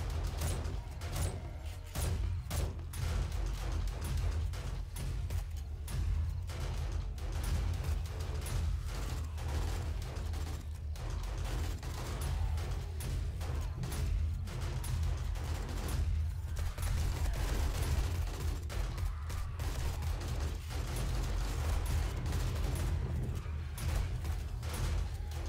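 Steady, dense gunfire in the survival game 7 Days to Die during a day 70 horde night, with shots fired at zombies in rapid bursts for about 25 seconds over a constant low rumble, and no voices.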